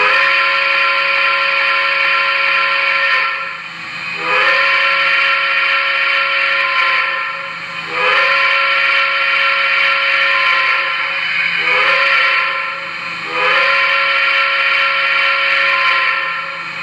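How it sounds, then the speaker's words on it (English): Whistle of a Lionel Corporate Tinplate 269E model steam locomotive with an MTH sound system: several long, loud chime blasts close by, each held steady and separated by brief pauses. "So let's check out the whistle."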